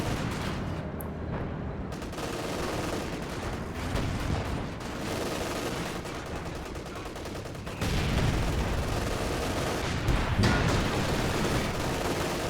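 Incendiary barrage and gunfire from a strategy video game battle around a mortar pit, a dense, continuous wash of explosions and rattling shots that grows heavier partway through, loud and sustained with no clear breaks.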